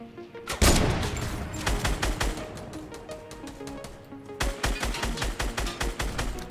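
Rapid bursts of gunfire from a Fortnite Battle Royale match, a dense volley of loud repeated shots that stops briefly and then resumes with a steady rattle of shots, with no talk over it.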